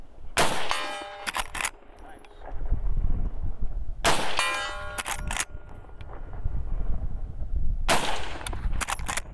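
Three loud, sharp gunshots from a Henry 360 Buckhammer steel side-gate lever-action rifle crack outdoors about four seconds apart. Each blast is followed by a ringing, clanging tail.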